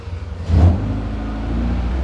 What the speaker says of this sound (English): Okay, we're gonna go ahead and start the car